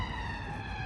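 A London police car siren wails briefly at a distance, a steady tonal blare heard faintly under low background rumble.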